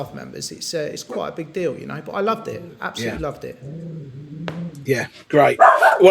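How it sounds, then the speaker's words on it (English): A pet dog makes cooing, whining vocal noises close by, overlapping a conversation between people talking on an indoor podcast. "excuse my dog, by the way"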